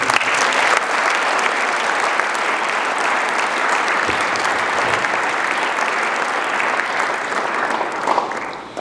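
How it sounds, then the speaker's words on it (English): Sustained, loud applause from a large crowd at a school speech day, a dense wash of clapping that continues steadily throughout without pause. "Please give them a huge round of applause."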